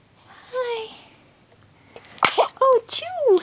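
A dog gives a single sharp sneeze amid a soft, faint background, followed by a person speaking in an affectionate voice.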